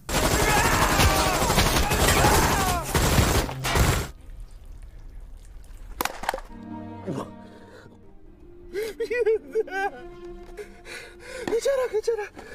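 Machine gun fire in a film scene, a dense burst of rapid shots sprayed at fleeing refugees, loud and sustained for several seconds, then fading into quieter sounds with gasps and voices.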